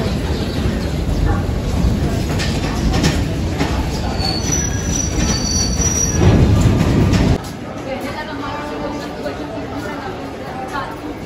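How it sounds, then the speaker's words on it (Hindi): Loud rolling train noise at Allahabad (Prayagraj) railway station, a dense rumble with faint wheel squeal that drops off abruptly, while people chatter and a voice talks throughout. "तो गाइस ये है इलाहाबाद स्टेशन प्रयागराज,"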